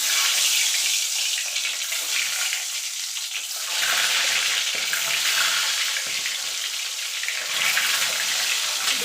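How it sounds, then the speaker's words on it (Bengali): Eggs going into hot oil in a pan, giving a loud, dense, hissing sizzle that swells and eases in waves throughout, with no talking. "তেলটা গরম হয়ে গেছে এবার ডিমগুলো আমি ছেড়ে দেবো"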